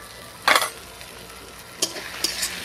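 Ground turmeric, chilli, Kashmiri red chilli and coriander powders fry in a pan for a tangy-spicy snakehead fish curry. A low sizzle runs underneath three loud scraping bursts of stirring, and no one speaks.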